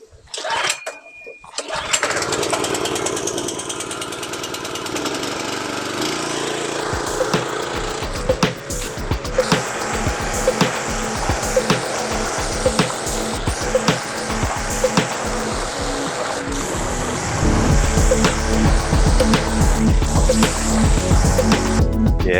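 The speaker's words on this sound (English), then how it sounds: "pressure wash it and see what happens" A pressure washer sprays the dirty front carpet pulled from a Mitsubishi Legnum, a steady loud hiss of engine and water jet running continuously, growing harsher and louder toward the end.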